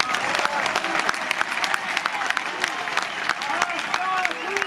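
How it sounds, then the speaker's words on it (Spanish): Protest rally crowd in Zaragoza applauding in support of antifascists, dense sharp clapping from many people with scattered shouts and voices mixed in throughout. "tomad nuestros aplausos cálidos y solidarios."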